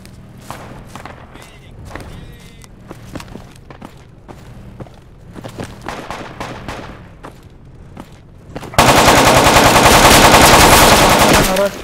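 Gunfire in the infantry combat video game Project Reality: rapid bursts of sharp shots crackle at varying distances, then an abrupt, much louder continuous barrage of close automatic fire fills the end.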